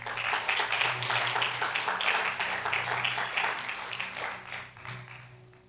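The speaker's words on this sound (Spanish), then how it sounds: "denle un aplauso al Señor." A church congregation claps together in a steady burst of applause, many hands sounding fairly close, with a low hum underneath and the clapping tapering off toward the end.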